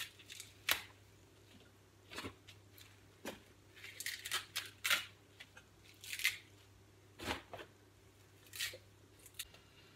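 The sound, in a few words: kale leaves being ripped up by hand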